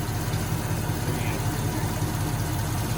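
A Ford Galaxie engine idles steadily with a low, even rumble and faint vibration, close and continuous throughout.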